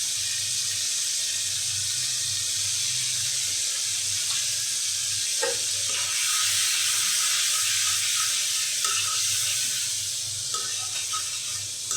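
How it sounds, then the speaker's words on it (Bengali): Water pours steadily into a pan of noodles, a continuous loud hissing rush from start to finish, with faint clinks now and then. "পানি অ্যাড করে দিচ্ছি।"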